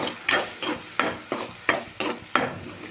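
Onions for onion chutney sautéing in a pan, stirred in rhythmic scraping strokes about every half second over a continuous sizzle, close and clear with no speech.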